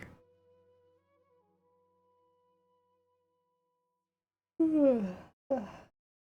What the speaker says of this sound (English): Don't mind my yawn, I'm not tired, it's moving energy.